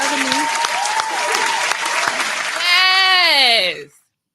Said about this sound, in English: Clap for my girl.